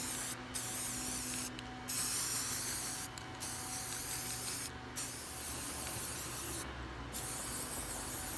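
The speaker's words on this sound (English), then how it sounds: "all the pieces that I painted with the white spray paint" Pumpkin plaque pieces from Dollar Tree are sprayed with white spray paint: long, steady hissing passes broken by several short pauses, close and fairly quiet.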